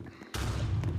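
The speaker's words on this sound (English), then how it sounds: "Oh, there's explosion." An explosion in the video game Piggy, a sudden loud blast that cuts in after a quiet moment and holds as a heavy, rumbling roar.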